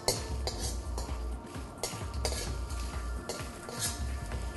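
Red curry ingredients dry-roasting in an empty pan, stirred with a utensil that scrapes and clinks against the metal in repeated close strokes.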